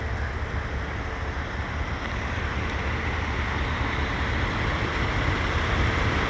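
Heavy trucks idle and rumble steadily at a milling and paving job site, a dense, constant low drone with no break across the stretch and no talk over it.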